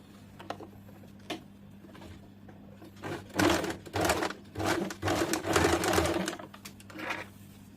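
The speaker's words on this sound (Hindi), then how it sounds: "अब हम लोग इसमें चेन सिलाई कर लेंगे।" A sewing machine chain-stitches a six-panel petticoat in short rapid bursts, quiet at first and then a loud, steady mechanical run of rattling stitches.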